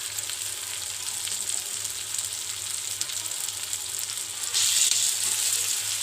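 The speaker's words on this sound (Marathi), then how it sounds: "थोडा सॉस टाकलाय" Steady loud sizzling of Schezwan noodles frying in a hot pan as sauce goes in, a continuous close hiss with a brief brighter surge of spluttering near the end.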